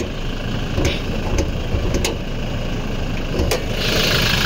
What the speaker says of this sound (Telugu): ఇది బండి ఇంజన్ సౌండ్ చూడండి,